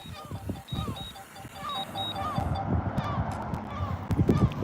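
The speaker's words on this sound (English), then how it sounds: "The seagull's trying to get the drone." A seagull calls repeatedly while chasing a drone outdoors, sharp cries recurring over steady wind and background noise, with some distant voices.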